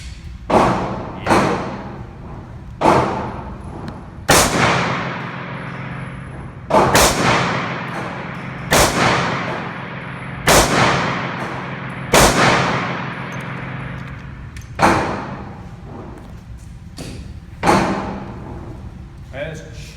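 A Springfield Hellcat pistol fires about nine sharp shots, one every two seconds or so, at an outdoor range. Each is a loud crack followed by a short decaying echo.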